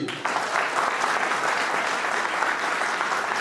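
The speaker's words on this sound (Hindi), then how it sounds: "सपोर्ट के लिए जोरदार ताली बजनी चाहिए।" Dense, continuous applause from an audience packed into a full hall, steady and loud from start to finish with no voices over it.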